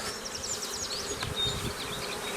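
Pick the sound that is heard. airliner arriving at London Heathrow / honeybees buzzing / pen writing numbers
honeybees buzzing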